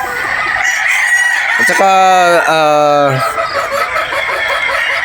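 Sweater gamefowl roosters at a game farm in Batangas, one of them letting out a single loud, close crow mid-clip over a busy background of other birds, with a voice briefly heard.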